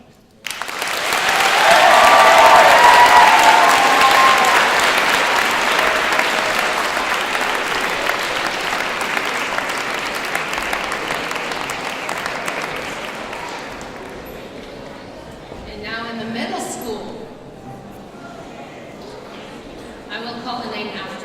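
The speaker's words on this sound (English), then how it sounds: "It is time for Eddie to be noticed and applauded." Loud, sustained audience applause fills a school award ceremony hall, swelling early and slowly tapering off over about twenty seconds.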